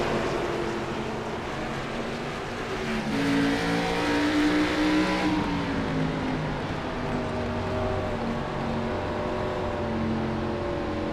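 Race cars on a short track oval at Lucas Oil Raceway in a national tour event, engines droning steadily with harmonic whine, swelling briefly mid-clip as cars pass, loud and continuous with no talk.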